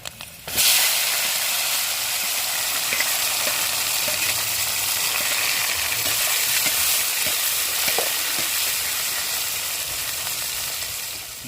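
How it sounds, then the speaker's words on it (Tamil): Dried red chillies and urad dal dropped into hot oil, bursting into a loud, steady hiss that holds for several seconds with faint crackles and an occasional scrape, up close and without speech. "எண்ணெய் சூடாயிருச்சுங்க வத்தலும் உளுந்து போட்டுக்கிறோம்"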